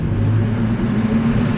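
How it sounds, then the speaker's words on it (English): A farm machine's engine, with its PTO-driven elevator running, throttles up toward about 1500 RPM for a corn job, giving a steady, loud, close low hum throughout. "now we need to throttle up to about 1500 RPMs"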